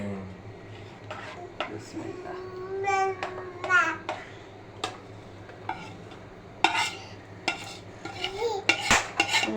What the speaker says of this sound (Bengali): এখন আম্মু সুন্দর মতো ভালোভাবে গুলিয়ে নিতেছে